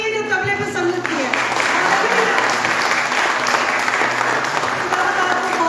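An audience at a live worship gathering in Budapest breaks into loud, continuous applause as the music fades out, thick and steady clapping that fills the room for several seconds.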